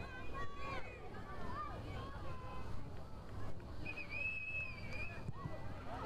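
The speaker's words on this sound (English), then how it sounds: "And again a whistle." A referee's whistle at a soccer match between South Georgia Tormenta FC and North Carolina FC sounds one sustained, fairly high blast as a penalty is awarded, over steady crowd murmur and field noise.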